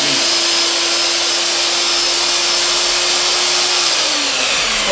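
An electric paddle mixer runs on its lowest speed, speed 1, whirring steadily in plaster with a constant high motor whine and a steady pitched hum, loud and close, without pauses or talk.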